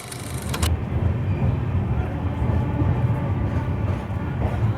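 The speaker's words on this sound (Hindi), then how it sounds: "तो चलिए 2 मिनट हॉल्ट के बाद डिपार्चर हो चुका है शाहजहांपुर जंक्शन के प्लेटफॉर्म 1 से" Ganga Sutlej Express pulling out of platform 1 at Shahjahanpur Junction, heard as a steady, loud rumble of rolling wheels and carriage noise throughout, with a brief bright clank at the start.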